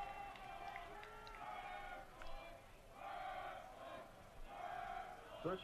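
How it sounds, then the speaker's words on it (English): Crowd in the bleachers at a college football game, Loras versus Coe, chanting in rising waves of distant, muffled voices, moderately faint, repeating in swells. "you hear the crowd starting to get some chants going from the bleachers, willing this defense on third down"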